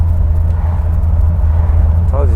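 An OBS Chevy Tahoe engine idles roughly with a steady low rumble that sputters unevenly, heard up close while a voice talks over it.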